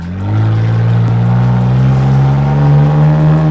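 Nissan Frontier PRO-4X engine running through an aftermarket exhaust, a loud, close, deep steady drone that swells slightly as the revs rise, heard alone.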